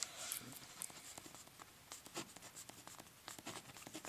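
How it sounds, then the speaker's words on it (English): A pen scratches quickly across paper in short bursts and strokes while algebra working is written out, quiet and close, with brief pauses between marks and no speech. "We just write them down here."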